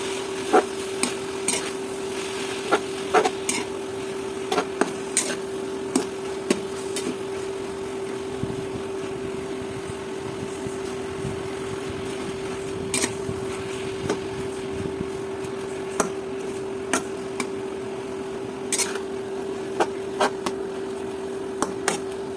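Leafy spinach greens are sautéed and stirred in a pan before fish is added. A spatula scrapes and taps the pan repeatedly at an uneven rhythm over a faint, steady sizzle, with no talking.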